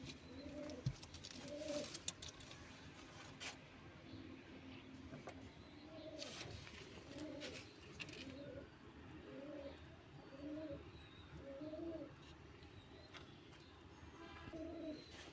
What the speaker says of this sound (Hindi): ये देखिए माशाल्लाह कबूतर